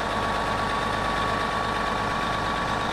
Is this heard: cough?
no